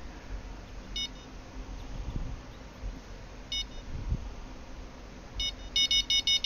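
A fishing bite alarm on a rod in Fishing Planet, at a lake for bottom fishing lake trout and burbot, gives a few isolated short beeps. A quick run of rapid beeps closes the passage over soft ambient noise.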